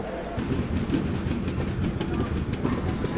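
The Sarvodaya Express rolls through Panipat junction railway station with a steady rumble and rhythmic clickety-clack of wagons on the rails, close and continuous.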